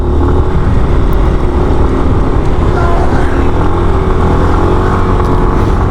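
A Yamaha NMAX scooter fitted with a turbo revs hard and holds a loud, steady engine roar close by for about six seconds, with no talking over it.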